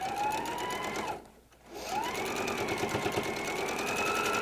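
A sewing machine stitches a quarter-inch seam on a double pinwheel quilt block, with a fast, steady mechanical whir that dips to near quiet for a moment, then resumes at full speed.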